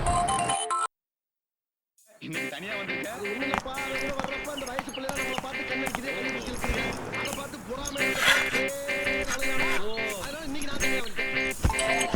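A mobile phone rings with an incoming call, a repeating bright electronic ringtone melody that starts after a brief silence and keeps cycling steadily and close, with voices talking underneath.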